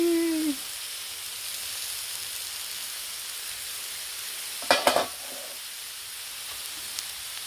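Egg noodles and pork sizzle on a Blackstone griddle, a steady, even hiss running throughout, broken by a few sharp scrapes and clatters of a utensil near the middle.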